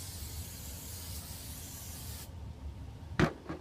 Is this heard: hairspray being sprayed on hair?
yes